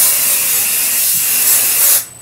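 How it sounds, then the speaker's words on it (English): Hairspray from an aerosol can is sprayed onto a teased, high-ponytail poof in one steady, loud, close hiss lasting about two seconds before cutting off abruptly. "you're going to spray the poof"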